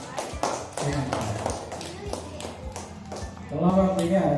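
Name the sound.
classroom applause after a group presentation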